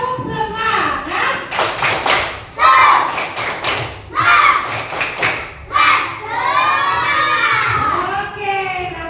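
A classroom of children performs a rhythmic Indonesian 'tepuk semangat' clap during an ice-breaking activity, with loud patterned claps and thumps mixed with shouted chanting voices.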